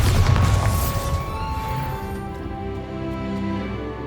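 A Bombarda blasting spell explodes in Hogwarts Legacy, a heavy booming blast at the start that rumbles and rings out as it slowly decays.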